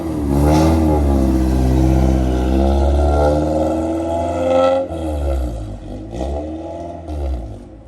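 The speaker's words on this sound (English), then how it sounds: "the exhaust is pretty not the best, but who cares?" Exhaust of a Honda Civic EF revving up and down, a loud, rough engine roar that swells and falls over several seconds up close, with no talking.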